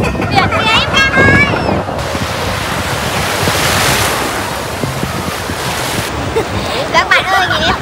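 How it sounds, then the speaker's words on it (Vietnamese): Sea waves roll in continuously on a beach at Phú Quốc, loud and close with a windy rush, while voices talk over the surf at the start and end. "biển kìa"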